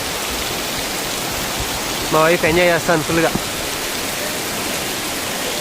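Water streams down from waterfalls at the Penchalakona temple, making a steady, loud rushing hiss throughout, with someone speaking briefly over it partway through.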